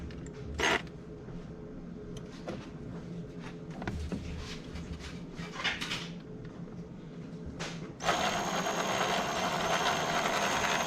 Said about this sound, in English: go ahead and drive them screws in